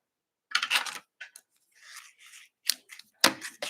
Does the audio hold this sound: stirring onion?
no